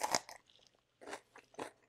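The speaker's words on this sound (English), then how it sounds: "It has a crazy crunch." Three crisp crunches come from biting into a raw bell pepper, each a sharp close-up snap followed by brief chewing, separated by short pauses in an otherwise quiet room.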